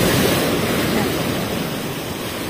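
Rough sea waves wash against a Philippine island coast in a steady, loud roar of broadband surf, swelling slightly at the start and easing a little toward the end.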